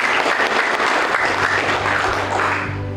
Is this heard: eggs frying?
no